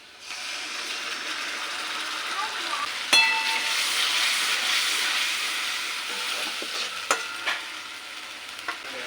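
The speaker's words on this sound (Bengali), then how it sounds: "পেঁয়াজটা লাল করে ভেজে নিয়েছি। এরপরে দিয়ে দিচ্ছি আদা রসুন কাঁচা লঙ্কা বাটা।" Ginger, garlic and green chili paste sizzles and fries in a pan with browned onions, a steady close hiss broken by a few sharp scrapes and stirs, with no talking.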